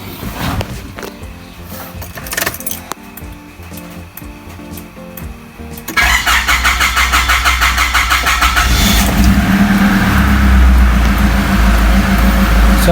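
Car engine cranking and catching, then settling into a loud, steady idle close by during a fan belt and alternator pulley check, with mechanical rattles before the start.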